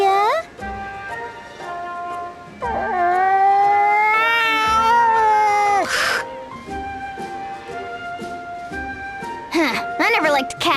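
A cat in the 3DS game Bravely Second gives drawn-out, wavering meows and yowls, loud and tonal, repeating several times with short gaps.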